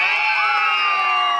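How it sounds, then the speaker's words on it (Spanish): Wedding guests at a zapateado dance in Capellanía cheering, whooping and shouting loudly for Don Gilo, a dense burst of crowd voices close by with sustained high shouts over the whole brief moment. "El aplauso para Don Gilo."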